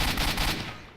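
Enemy gunfire in the video game S.T.A.L.K.E.R.: Shadow of Chernobyl, a loud, close, rapid burst of shots that quickly tails off.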